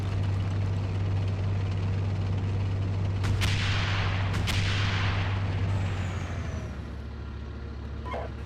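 Incoming gunfire in a military video game, two sharp cracks around the middle of the clip over a steady heavy engine drone, loud and close, with no talk.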